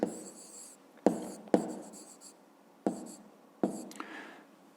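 A pen scratches out a written answer by hand, in several short bursts of strokes with sharp taps where the tip meets the paper, close and fairly quiet.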